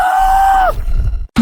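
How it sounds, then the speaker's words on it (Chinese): An old man lets out a shrill, pained scream in a drama scene. A single loud, wavering cry lasts under a second and trails off into a rough, breathy groan. "老头倒在地上发出凄厉惨叫声"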